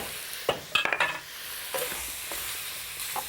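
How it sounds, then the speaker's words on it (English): Marinated vegetables from a beef daube sizzle in a hot pan, with a few sharp stirring scrapes and clinks near the start. "I'm going to add all the vegetables from the marinade as well. And just start those frying a little bit."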